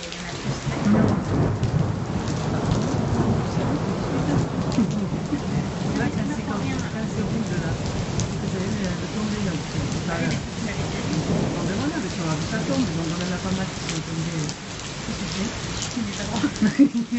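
Heavy rain pours down during a thunderstorm near Montferrier-sur-Lez in Occitania, France, with low rumbling thunder rolling steadily under the constant hiss of rain on surfaces, all close and loud.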